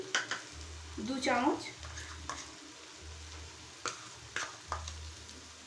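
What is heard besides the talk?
stirring cabbage chicken with garam masala and ghee in pan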